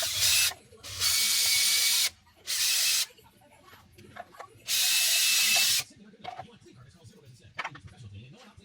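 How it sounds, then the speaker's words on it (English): Power drill bursts into wood in a cluttered shop, three loud whirring runs of about half a second to a second each, separated by quieter handling clatter, close and unaccompanied by talk. "And I have my drill"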